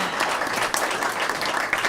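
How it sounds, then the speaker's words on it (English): Crowd applause at a high school soccer game, a steady wash of many hands clapping with no break, fairly close and filling the whole stretch. "let's give a round of applause."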